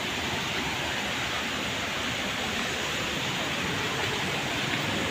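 A swollen river beside a forest runs with milky, muddy floodwater, a constant broad rushing wash with no change across the whole span and no voices.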